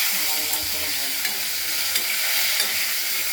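Potatoes frying in a wok give off a steady, close hiss of sizzling oil, broken by a few soft clicks as they are stirred.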